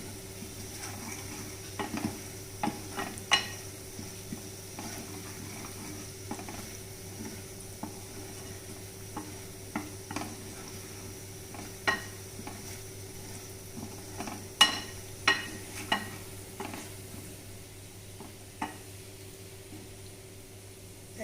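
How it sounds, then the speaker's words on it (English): Garlic sautéing in hot tempered oil while making batata vada, a faint continuous sizzle broken by scattered light clinks and spatula taps against the pan, with no talk. "Once the garlic is sauteed and the smell has gone"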